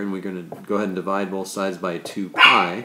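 A pet dog barks at home during a math lesson, with several sharp barks interleaved with a man's steady speech, close and fairly loud.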